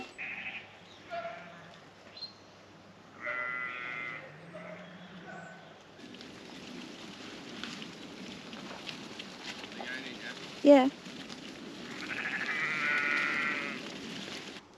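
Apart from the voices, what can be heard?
sheep being run into a fenced field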